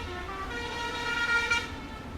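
A vehicle horn honks in one long steady toot lasting about two seconds, loud and close over a low traffic rumble.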